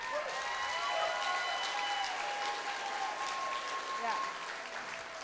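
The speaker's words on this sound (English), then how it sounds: "So give him a round of applause" Sustained audience applause at an outdoor arts festival, a steady crowd of clapping hands with faint whistles and cheers threaded through, easing slightly toward the end.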